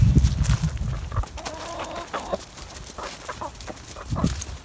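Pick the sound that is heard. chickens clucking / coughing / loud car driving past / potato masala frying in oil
chickens clucking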